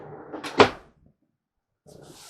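A drawer in a 2022 Forest River Salem FSX 179DBKX bunkhouse travel trailer shuts with one sharp thump after a brief shuffle, then quiet, with faint rustling afterward.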